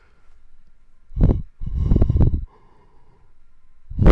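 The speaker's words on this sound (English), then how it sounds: "Yawning in the camera." A close, breathy yawn: a short intake, then a longer, drawn-out exhale that fades, with another breath starting at the end.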